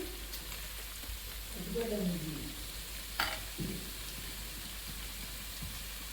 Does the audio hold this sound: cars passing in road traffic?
no